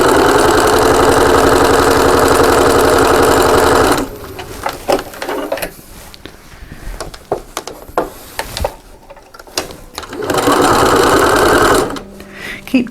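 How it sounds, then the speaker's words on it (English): A sewing machine stitches the corners of quilt fabric for a table runner in two loud steady whirring runs, with fabric handling and clicks in the pause between them. "So I'm just going to bring my machine in and just stitch those 4 corners"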